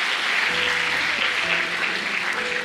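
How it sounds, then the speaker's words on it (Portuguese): An audience at a gospel preaching event bursts into applause, a dense, even wash of clapping sustained throughout with no voices rising above it. "salva de palmas para você"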